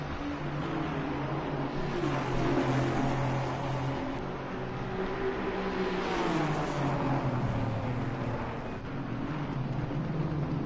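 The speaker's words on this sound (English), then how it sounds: "we've got GT3 cars lapping the GT4 class now" GT3 and GT4 race cars lapping at Misano in a sim race, heard as a steady engine drone with rising and falling pitch as cars pass, moderately faint and continuous, with no voices.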